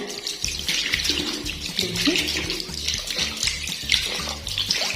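Tap water runs steadily into a bathroom washbasin that had been clogged and was just cleared with dish soap and hot water, a continuous close splashing stream with no talk.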